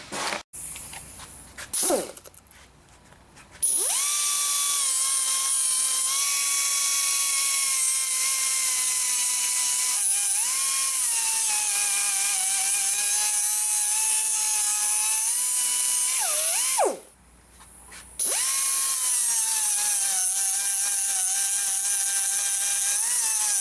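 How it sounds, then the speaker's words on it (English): An angle grinder cuts away a weld on the turbocharger wastegate lever of a Volkswagen Tiguan with a low-boost fault, a loud continuous whine whose pitch dips under load, broken by one short pause midway, with no talking. "we're going to have to grind this weld off in order to get this lever off"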